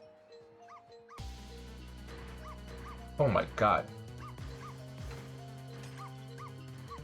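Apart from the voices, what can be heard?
dog barking and whimpering in video game Ghost Trick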